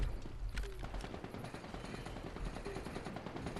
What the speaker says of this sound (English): I hear gunshots in my area.